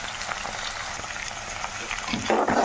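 Chicken keema with fenugreek leaves fries in a pan with a close, steady crackling sizzle that swells louder toward the end, as if stirred, with no talking.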